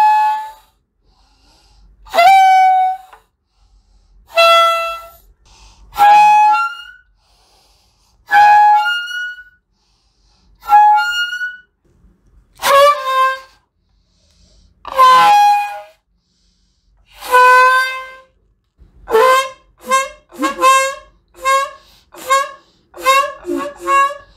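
A homemade balloon air horn blasts in a series of loud honks, long ones at first, then quicker short bursts, with pitch shifting between blows as the pipe position changes.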